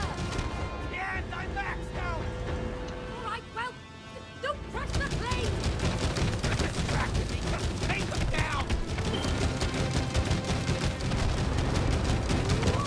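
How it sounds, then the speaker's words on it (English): Rapid bursts of video game gunfire crackle through a chaotic shooter scene, dense and continuous in the second half, with excited players shouting over the shots. "Hey, shoot him!"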